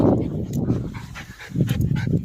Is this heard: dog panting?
yes